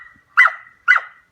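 A dog playing in the snow gives two short, sharp yips or barks about half a second apart, close and clear against silence.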